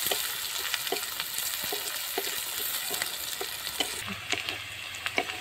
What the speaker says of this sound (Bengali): পেঁয়াজটা লাল লাল করে ভাজবো।